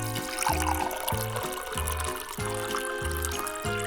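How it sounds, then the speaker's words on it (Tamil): Mixed liquid poured into an opened bottle, a steady glugging stream with rhythmic bubbling pulses as the bottle fills, close and continuous. "இப்போ பாட்டில ஓபன் பண்ணி இந்த மிக்ஸ் அதுல ஊத்துவோம்."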